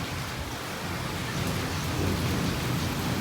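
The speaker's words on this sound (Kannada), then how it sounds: "ಗುಡುಗು ಸಿಡಲು ಇಷ್ಟು ಬರತೈತಿ ಹೇಳ್ತೀನಿ" Heavy rain pours down steadily in a thunderstorm, a dense close roar of falling water with low rumbling underneath, continuous throughout with no voices.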